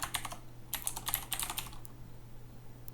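Keystrokes on a computer keyboard while editing a hosts file in the Vim editor on Kali Linux, a quick cluster of close, crisp clicks that thins out to a couple of isolated taps, no talking.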